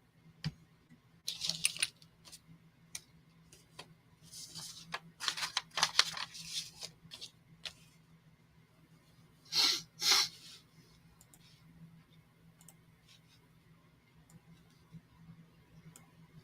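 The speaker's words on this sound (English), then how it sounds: "How many times would you like me to shuffle the deck for you?" A tarot card deck is riffled and shuffled by hand in short papery bursts, several quick flurries separated by quiet pauses, close and fairly crisp.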